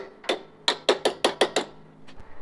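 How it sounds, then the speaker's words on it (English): A wrench is used as a hammer on a shock mount during assembly of a Tao Motors Cheetah 125cc ATV, giving about seven sharp metallic strikes in a quick uneven rhythm, close and loud, with no talk. "Wrenches do double as hammers."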